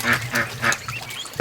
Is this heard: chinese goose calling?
yes